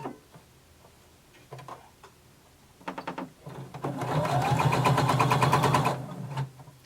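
Sewing machine stitching close to a pressed, turned-under fabric edge: a rapid, evenly ticking run that starts after a few scattered clicks and handling sounds, holds steady for about two seconds, then stops.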